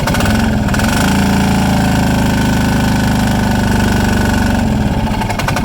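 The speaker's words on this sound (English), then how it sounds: "Let's try revving it a little." A Polaris 455 diesel engine from a barn-find project revs up, holding a loud, steady, rumbling drone close by for several seconds before easing back, with no talk over it.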